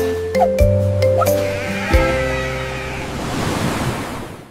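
Cartoonish sheep bleats ring out twice near the start of a children's song, then fade into a steady wash of ocean surf and wind.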